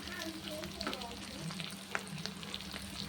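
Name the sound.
whole garlic cloves sizzling in oil for duck egg curry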